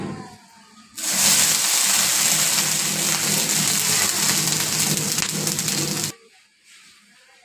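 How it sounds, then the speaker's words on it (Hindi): Water splashed onto a hot tawa while making dosa sizzles loudly for about five seconds, a dense steady hiss that starts suddenly and then drops away, with no one speaking. "पहले हम डालेंगे पानी"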